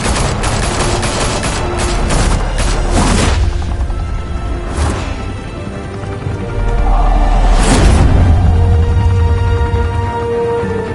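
Gunfire in Batman: The Telltale Series game: loud, close bursts of rapid shots and heavy booms, with rattling volleys, whooshes and a lingering low rumble between bursts.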